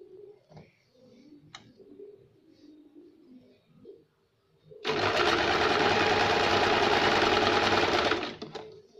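A sewing machine runs in one loud continuous burst of fast stitching on baby frock shoulder seams, preceded by soft cooing pigeons and faint background sounds.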